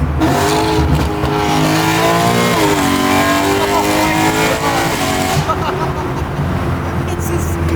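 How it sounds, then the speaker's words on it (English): A car fitted with a full titanium Valvetronic exhaust revs hard in a small garage, a loud sustained engine roar with rising and falling pitch sweeps, while people talk over it. "Why does it sound like that? Yo, huge shout out to the boys at Valvetronic. This is the full titanium exhaust"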